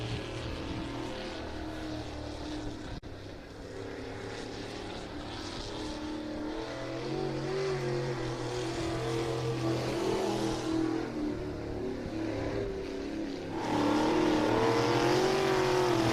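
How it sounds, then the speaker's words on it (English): Two-seat sprint cars rolling out onto the racetrack at Ohsweken Speedway on a Friday race night, a steady mix of engine drone and rumble that builds to a louder roar toward the end, with crowd and ambient noise behind it. "the 2-seat sprint cars are going to make their way out onto the racetrack"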